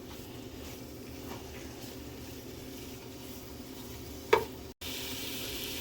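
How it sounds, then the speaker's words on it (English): Sausage cabbage and potato soup stirred in a pot on the stove, a steady soft sizzle and scraping bubble running throughout with one brief louder clink near the end. "You're going to want to keep stirring this"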